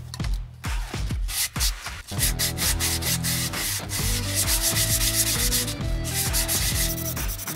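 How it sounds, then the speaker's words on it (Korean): Coarse 240-grit sandpaper scrubbing wet across a lacquered surface in steady back-and-forth strokes, loud and continuous with a gritty rasp, alone without talk. "물사포질로 표면을 갈아보겠습니다"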